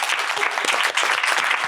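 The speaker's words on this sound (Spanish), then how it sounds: "Un aplauso." Dense applause from a live audience thanking a doctor on a talk show, sustained clapping of many hands at an even, close level with no voices.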